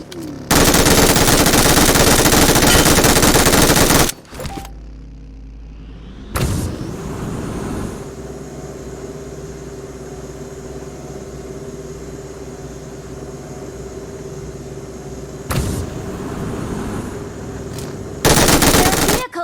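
A car driving in PUBG Mobile: a steady engine drone runs through most of it, broken by loud bursts of close automatic gunfire at the start and end, with a short silence in between.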